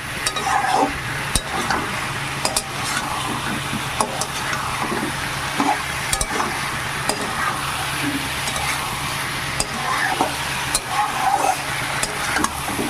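Soybean chunks and potatoes fried with spices in a pan, a continuous loud sizzle with repeated scraping strokes of a stirring spoon close up, no talking.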